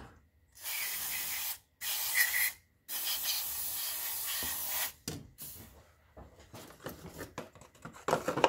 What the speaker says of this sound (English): use a can of a mass airflow sensor cleaner